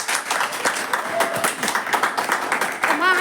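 A group of family members claps in scattered, uneven bursts at close range while people keep talking over the applause.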